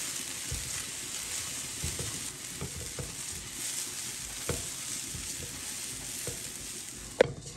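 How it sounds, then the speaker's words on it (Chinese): Dry brown rice tossed in an oil-free, water-free wok over high heat, grains rattling and scraping under a steady sizzle, with sharper spatula clacks scattered through and one loud knock near the end. "锅里面无水无油，倒入我们晾好的糙米，开大火翻炒一会儿"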